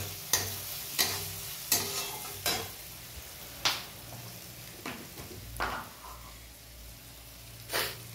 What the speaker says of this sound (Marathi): त्यानंतर आपण टाकणार आहे हळद, गरम मसाला आणि त्याला मिक्स करून घेणार आहे आपण चांगल्या पद्धतीनं.